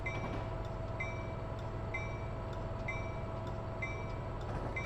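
A Metra train led by an SD70MACH locomotive in Train Sim Classic rumbles steadily with a constant low engine drone and regular rhythmic clicks over rail joints, continuous and without speech.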